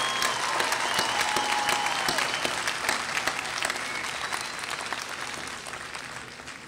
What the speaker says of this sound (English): let's have one more round of applause for the associate degree students.